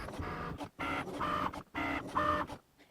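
A Cricut Maker cutting machine drives a scoring wheel over paper, humming in three or four mechanical bursts with short pauses, each rising to a whine, close and alone.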